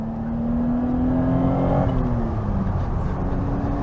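An Alpine A310 V6 sports car drives along a road in a tall gear, its engine holding a loud, steady drone that rises slightly in pitch and then eases off, heard from inside with no talk.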